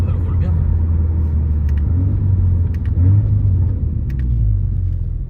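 An Audi car on the road, heard from inside: a steady low engine and road rumble holds throughout, with people talking over it.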